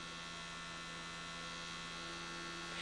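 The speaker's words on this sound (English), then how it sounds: "we're going to take this little dollar store fan and we're going to cut that fan on for ventilation" Small dollar store fan running for ventilation, a steady, even motor hum with a tonal whine, unchanging throughout and fairly faint, with no talk.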